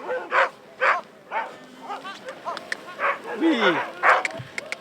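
Sled dogs at the Lekkarod race bark and yip repeatedly in loud, excited bursts, with whines between them and people talking nearby.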